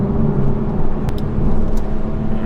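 A manual Toyota GR Supra's 335 bhp engine hums steadily at close range in fifth gear on open road, a smooth constant drone with road noise and no talking.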